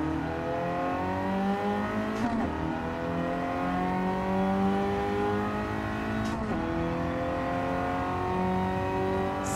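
A race car driven in the Gran Turismo 7 video game holds a steady high-pitched engine howl that rises through the gears, with brief shift breaks and tire squeal, loud and continuous throughout.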